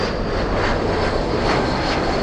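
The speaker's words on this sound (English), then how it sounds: "we have a mighty E175 flying in from San Jose, California." An Embraer E175 jet airliner at LAX airport gives a continuous broadband engine roar, loud and sustained throughout with a faint tonal whine above.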